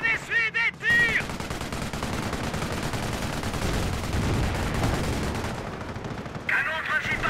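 Gunfire fills a Company of Heroes Opposing Fronts battle in the Market-Garden campaign, heard as dense, continuous rattling bursts of machine-gun and rifle fire with heavy impacts. Brief radio-style voices come in at the start and end.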